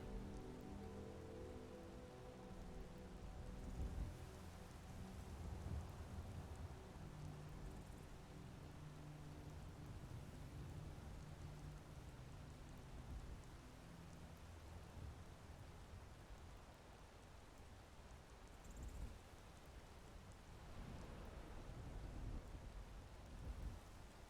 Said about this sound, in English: Hopefully the storm will pass soon.